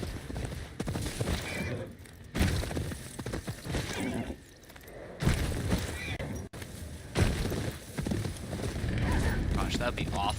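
A horse whinnies and its hooves clip-clop in rapid galloping rhythm in the video game Ghost of Yotei, over game effects and bursts of talk.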